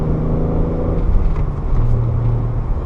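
The six-cylinder engine of a 1987 BMW 325is E30 while driving, a loud, steady harmonic hum and rumble inside the car, its pitch shifting slightly as the revs change.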